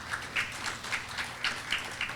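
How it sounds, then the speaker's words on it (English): Audience at a tourism forum opening giving a round of applause, a soft, even patter of many hands at moderate distance, steady without clear peaks or voices. "Please give them a big round of applause"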